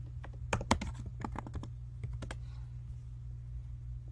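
Quick bursts of keystrokes on a computer keyboard, close and crisp over a steady low hum, clustered in the first half and thinning out into a few scattered taps.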